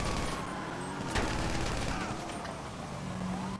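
Gunfire aimed at a pursuing car's tires during a chase in a 60s Impala in the video game GTA, steady rattling shots layered over engine roar and traffic noise, with a sharper crack midway.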